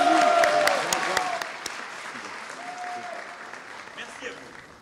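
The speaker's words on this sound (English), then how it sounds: "So there you have it, some applause for Emmanuel Macron." An audience at a public appearance by the French president applauds loudly, the clapping strongest at the start and then tapering off, with faint voices and a passing tone beneath.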